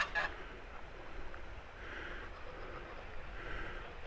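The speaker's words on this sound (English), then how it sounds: "some of the geese having a bit of an orgy" Geese by a bridge in a park in Ayia Napa, Cyprus, give faint, distant honks that rise a few times over a low outdoor background with no talk.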